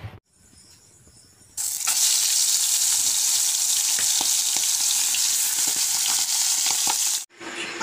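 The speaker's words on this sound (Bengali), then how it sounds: "এখন ভাজা করব" Cleaned river fish fry in a pan, a loud continuous hissing sizzle that bursts in suddenly after a quieter start and holds steady until it stops abruptly near the end.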